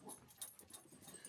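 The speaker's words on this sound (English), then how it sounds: "I have an excited puppy" An excited puppy whimpers and whines in a quick series of faint, high-pitched squeaks and soft breathy sounds, close by but quiet, with no talking.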